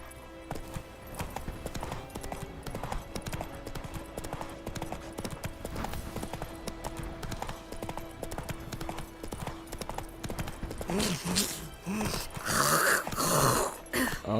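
The horse Roach's hooves running in The Witcher 3 after its next-gen update, a fast, steady clip-clop rhythm of galloping hooves, close and continuous, with a brief snort or whinny near the end.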